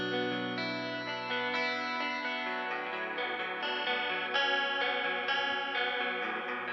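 A sustained synth-like chord through a chorus-like modulation plugin, wavering and shimmering, smooth and continuous without pauses, played alone.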